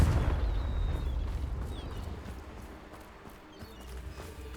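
A Confringo blasting spell in Hogwarts Legacy goes off as a deep, rumbling explosion that rolls on continuously and loudly, then slowly settles with faint crackling on top.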